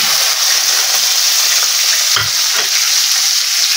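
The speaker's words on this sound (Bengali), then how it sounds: "মাছ ভাজার ওই গরম তেলের মধ্যে দিয়ে দেবো কুচনো পেঁয়াজ।" Chopped onion goes into hot oil left from frying fish, bursting into a loud, dense sizzle with a sharp crackle and stirring sounds partway through, close up and alone.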